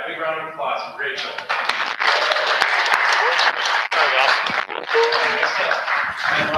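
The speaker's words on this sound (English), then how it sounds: "All right, big round of applause for Rachel." Applause from an audience at a talk or panel event, fairly loud clapping that fills most of the clip, with a voice speaking over it near the start.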